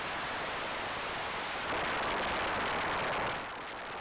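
Synthesized pink noise from an oscillator sounds like steady rain: a dense, continuous hiss that swells louder partway through and then drops slightly near the end, with no voices.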